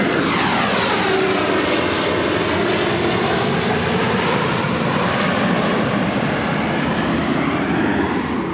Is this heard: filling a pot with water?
no